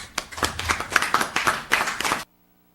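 A short burst of clapping from a small group, crisp and close, lasting about two seconds before cutting to silence.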